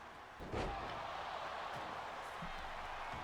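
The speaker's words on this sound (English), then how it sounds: "Listen to this crowd pop." Wrestling crowd roaring after a sledgehammer and table spot, a sudden swell of dense cheering that stays loud and steady, with a thud near the start.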